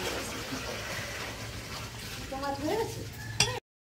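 Boiling sago for saree starch is stirred with a wooden dal masher, a soft bubbling churn with light scraping in the pot, close by, ending in a brief clatter before cutting off.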